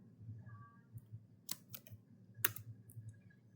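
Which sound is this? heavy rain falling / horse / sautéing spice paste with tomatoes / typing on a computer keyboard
typing on a computer keyboard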